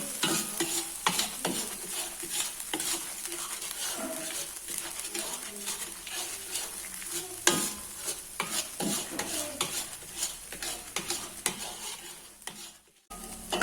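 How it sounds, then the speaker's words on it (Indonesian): Continuous scraping and stirring of a thick sambal mixture in a pan, with soft sizzling underneath and occasional clinks of a utensil against the pan. "Langsung saja kita campur, kita aduk-aduk sampai benar-benar tercampur rata."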